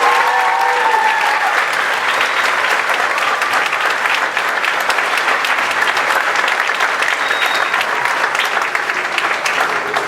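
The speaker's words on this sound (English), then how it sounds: "One more round of applause for the 6th grade band." Sustained audience applause fills a school winter band concert hall after the 6th grade band performs, steady and dense throughout with scattered cheers and no pause.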